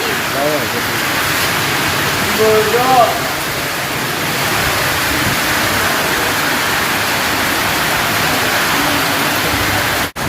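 Steady, dense stormy rain roaring without a break for about ten seconds in Gujrat, Pakistan, a broad wash of noise with faint voices briefly audible early on.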